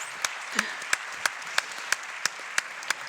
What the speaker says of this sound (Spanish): Aplaudan si quieren.